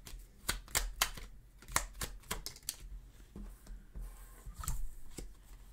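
Tarot cards are shuffled to draw another card, producing a quick series of crisp, close riffling clicks and taps at an uneven rhythm. It is fairly quiet, with no talk.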